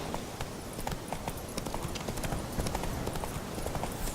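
The horse Roach trots in The Witcher 3 game, its hooves clip-clopping in a quick, steady rhythm across the whole stretch, with no talking.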